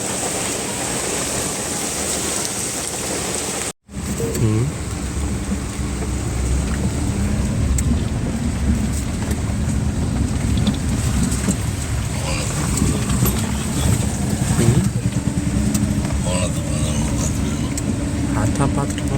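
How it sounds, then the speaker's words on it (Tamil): Heavy rain drums on a moving car on the mountain road to Valparai, a dense, loud, unbroken roar mixed with engine and wind noise, while someone talks over it. "இவ்வளோ பெரிய மழையை நான் எக்ஸ்பெக்ட் பண்ணல மக்களே"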